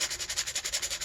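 100 grit sandpaper scrubbing crusty electrical contacts, with rapid, evenly spaced back-and-forth strokes forming a quick, steady rasping rhythm, close and fairly quiet.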